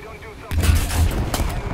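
Tank cannon fire erupts in the War Thunder tank battle around an M4A4 Sherman (Italy) under attack from a KV-1 and a T-34: one loud, close blast after a short quiet lead-in, followed by rumbling impacts and another sharp hit.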